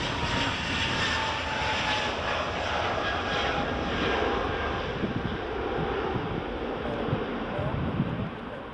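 A WestJet airliner taxis at Edinburgh Airport, its engines giving a steady, broad rumble and whine that holds at moderate distance throughout, with wind noise mixed in.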